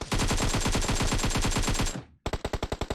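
Rapid automatic AK rifle fire in PUBG Mobile, a loud sustained burst of evenly spaced shots for about two seconds, a brief pause, then another quick burst of shots.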